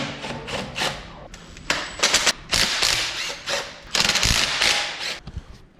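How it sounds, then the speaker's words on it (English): A ratchet works the rocker cover bolts on a Land Rover 200tdi engine, giving close, rapid clicking runs in several bursts with short pauses between them, loud and alone. "I've just basically loosened all the bolts on the rocker."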